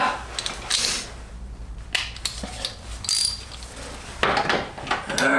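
A socket wrench ratchets on a differential bolt of an Evo 9 in short clicking bursts, close and moderately loud, with brief pauses between strokes.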